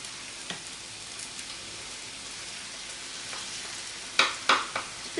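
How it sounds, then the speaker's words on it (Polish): Potato pancake batter sizzles softly in a hot pan over reduced flame, with a steady low crackle and a few sharper pops and clinks near the end. "smażymy na zmniejszonym płomieniu z jednej i z drugiej strony"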